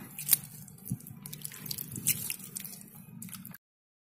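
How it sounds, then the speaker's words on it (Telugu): Water sprinkled onto soil in a seedling tray, heard as soft wet drips and squishy splashes at close range for a few seconds, quiet and without speech. "ఇక్కడ కూడా వాటర్ చల్లుతానండి ఎందుకంటే ఇక్కడ మట్టి తీసి పెట్టాలి కదా"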